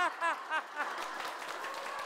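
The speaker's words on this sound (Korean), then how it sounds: "자, 박수 치면서 한번 웃어볼게요." Audience members at a televised lecture laugh aloud and then break into clapping that settles into a steady patter, moderately close.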